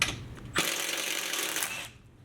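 A screwdriver backs out a skid plate screw on a Maxx 4S RC truck with a brisk, close ratcheting whir of about a second and a half, then falls quiet. No one speaks.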